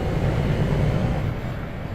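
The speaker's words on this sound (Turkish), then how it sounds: "Şu artık egzozu bir konuşturalım ya." A simulated V8 truck exhaust in Euro Truck Simulator 2, on a Calais to Duisburg haul, gives a steady, dense low rumble that drones on evenly without breaks or speech.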